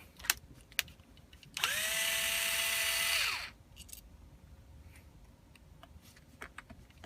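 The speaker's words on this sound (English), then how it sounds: "you want to loosen all these screws and remove them, because we want to take this plate out." A power drill whirs for about two seconds, spinning up, running steadily and winding down while backing screws out of a plate on an FX air gun valve, with scattered small clicks and taps before and after.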